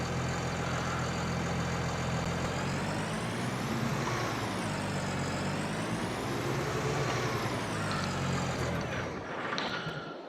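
A tractor engine in Farming Simulator 22, a modded T6 fitted with T7 engine sounds from FS19, drones loud and steady for the whole stretch, its pitch swelling and easing gently as revs rise and fall.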